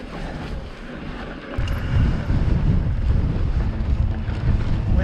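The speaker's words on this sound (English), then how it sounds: "Wind is blowing." Wind gusts over a mountain bike trail near Moab, buffeting the microphone with a rough, roaring rush that grows much louder after the first second and a half, with no talk.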